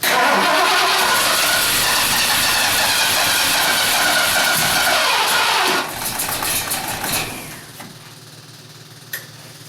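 A Ford 460 V8 with a carburetor backfire fault cranks over loudly and roars steadily for several seconds, then cuts off abruptly and leaves quieter rumbling and a single sharp knock.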